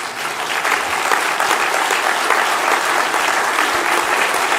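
Steady, dense applause from a large audience fills the whole stretch, loud and continuous with no voices, following a funding pledge announcement.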